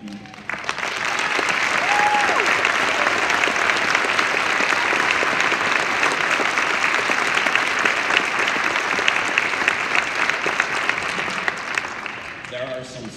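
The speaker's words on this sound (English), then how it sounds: "So eighth graders, if you would please stand so we can all clap for you." A school spring concert audience applauds standing eighth graders, a full, sustained wave of clapping that swells in quickly, holds steady for several seconds, and tapers off near the end, with faint talk underneath.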